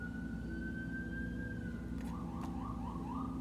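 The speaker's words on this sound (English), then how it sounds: "These are the sirens I was speaking of earlier." Emergency vehicle sirens wail outdoors at a distance, a steady tone followed by rising and falling yelps under a constant low hum of background noise, with no one speaking.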